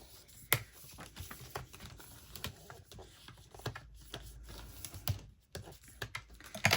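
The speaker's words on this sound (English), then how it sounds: "I'm going to use my bone folder, and I'm going to crease this down really nicely" A bone folder creasing a folded paper envelope, producing soft scraping strokes and sharp taps in a quiet room, irregular and close, with no talking.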